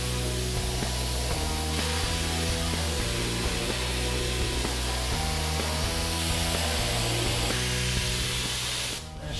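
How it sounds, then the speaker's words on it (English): Adhesive is sprayed onto headliner padding for a classic VW in a continuous, loud hiss lasting several seconds, with a steady musical bed underneath. "I'm going to go ahead and start spraying the headliner"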